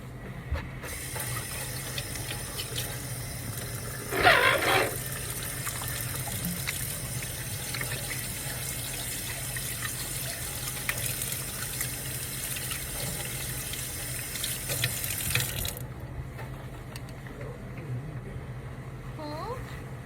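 Water runs steadily from a tap into a sink as hands are scrubbed before a pediatric dentistry procedure, a continuous hiss with a brief louder splash early on, then stopping near the end.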